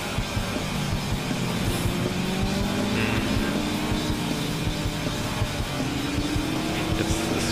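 A car engine races continuously in the FlatOut racing video game, a loud, steady revving drone with rising and falling pitch as gears shift, no speech over it.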